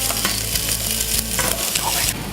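Pressed garlic dropped into hot avocado oil for meatball soup, a loud, dense close sizzle that crackles and spits continuously with scattered sharper pops.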